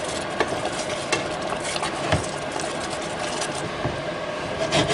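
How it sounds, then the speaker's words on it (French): Veal blanquette, meat and creamy sauce together in a pot, bubbling and sizzling steadily and close up, a dense continuous simmering texture with small pops and stirring scrapes throughout. "On va laisser glougouter ensemble une fraction de seconde là"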